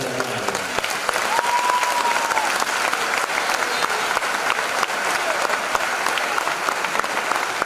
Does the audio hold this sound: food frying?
no